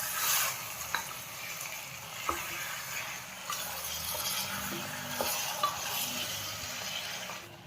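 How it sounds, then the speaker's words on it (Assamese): Mutton and tomatoes fry in a pan with a steady close sizzle while a spoon stirs, scraping and clinking against the metal now and then. "বিলাহীখিনি দিয়াৰ পাছত ভালকৈ লৰাই দিম।"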